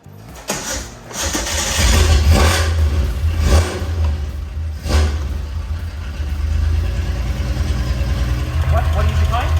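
A Nissan Hakosuka Skyline with carburetors, one jet working loose, cranks and fires, then revs in several strong bursts before settling into a loud, lumpy idle close by, with people talking over it.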